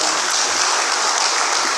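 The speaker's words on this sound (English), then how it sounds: "Please, another round of applause for the Deputy Governor," Steady applause from a crowd at a non-oil export summit, a dense wash of clapping throughout.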